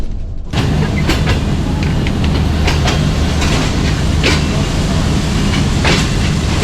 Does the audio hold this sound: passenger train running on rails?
yes